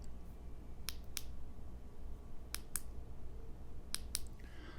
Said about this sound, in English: If you want it to be a constant on, you just press until you hear the click and then you release it.